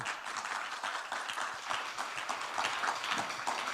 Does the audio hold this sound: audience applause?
yes